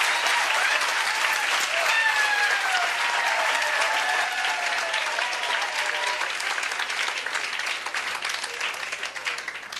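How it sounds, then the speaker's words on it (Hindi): Loud, sustained audience applause welcoming guests at a coaching institute event in Sonipat, a dense crowd clapping steadily for the full stretch and tapering slightly near the end. "तालियों से स्वागत किया जाए एक बार।"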